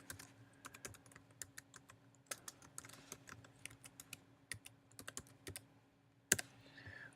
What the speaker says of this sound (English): we're going to type in here